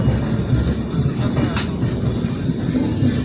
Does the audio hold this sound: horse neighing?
no